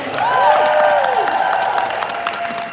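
Applause and light cheering from an audience at an International Women's Day leadership event at Nike's New York headquarters, with scattered claps behind a sustained tonal sound and a voice, fading after a couple of seconds.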